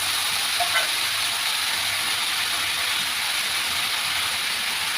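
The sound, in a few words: soybean chunks added to pan and stirred while cooking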